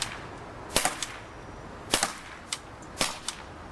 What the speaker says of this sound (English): Now we're ready to fire again.